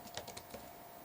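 Quick, light keystrokes on a computer keyboard as a command is typed, a short run of soft clicks heard alone and fairly faint.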